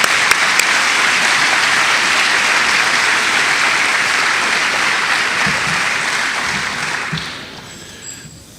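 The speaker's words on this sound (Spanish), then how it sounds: "Recibamos con un fuerte aplauso a Samuel Pérez Millos." An audience at a church gathering applauds steadily and loudly, dense clapping that holds for several seconds before tapering off near the end, with no voices over it.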